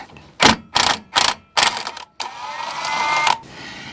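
Ratchet fitted with a 21mm deep socket working on the steering gear box of a 2004 GMC Sierra 3500 Duramax, with four sharp clicking bursts followed by a longer steady ratcheting whir, close and loud.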